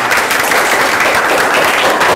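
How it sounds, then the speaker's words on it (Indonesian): Classroom applause from a group of students after a group presentation on a simple electric motor, dense and steady clapping throughout, loud and close, ending abruptly. "Beri tepuk tangan."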